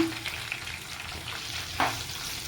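Onions and green chillies frying in a pan with curry leaves, cooking for a dal: a steady oil sizzle runs throughout, with a soft stirring scrape near the end, and no talking.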